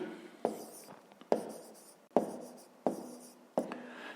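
A pen writes notes by hand during a fifth-grade lesson, making five quick scratchy strokes at a steady pace, close and clear, with no voices.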